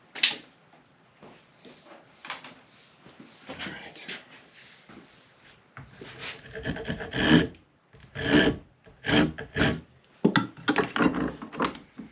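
An axe handle is sanded by hand, giving a series of repeated rasping strokes on wood that grow louder and more rhythmic in the second half.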